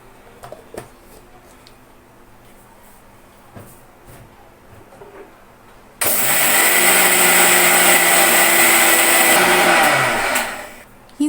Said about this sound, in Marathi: पटकन मिक्सरला लावून घेऊ.